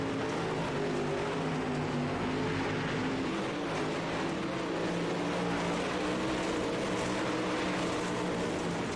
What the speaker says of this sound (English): Let y'all listen to the sights and sounds of these cars flying around here.